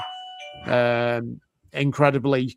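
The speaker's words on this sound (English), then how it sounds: "Was that your Ring doorbell going off?" A Ring doorbell chime plays through home speakers as a sustained tonal ding, followed by a short pause and then a person talking.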